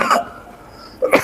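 A man coughs twice, short harsh bursts at the start and end of a brief pause in a spoken lecture setting.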